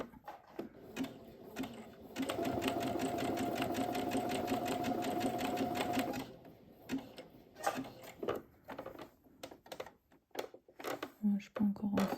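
Sewing machine stitching a zigzag seam on a zipper pouch, a steady rapid needle clatter for about four seconds, followed by slower intermittent mechanical clicks and handling sounds, with someone talking quietly.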